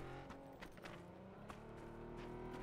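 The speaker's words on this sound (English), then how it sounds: "Yeah, they got a car." Steady video game car engine drone with tonal hum and occasional revving bursts, a continuous mechanical car sound with scattered clicks on top.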